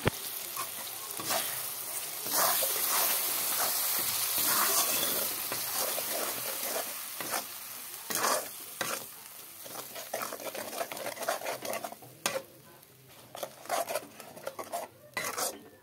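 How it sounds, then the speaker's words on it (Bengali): Spice masala fries in oil in a pan while a spoon stirs, giving constant sizzling under frequent clattering scrapes and knocks against the metal, close up and without talk. "মশলাটাকে এখন একটু কষিয়ে নিই"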